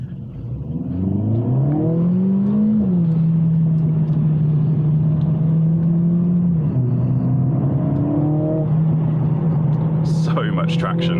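A Mercedes CLA45 S AMG pulls hard on a wet road, its engine climbing loudly through several gear changes, with a brief crackle of exhaust pops near the end.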